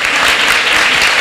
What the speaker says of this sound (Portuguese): Então vamos aplaudir Jesus?